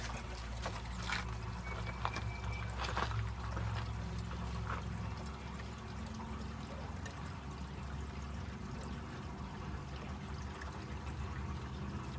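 Water pours steadily into the cooling system of a Wanderlodge bus with an overheated Detroit 8V92TA diesel, a continuous close splashing trickle with no talk.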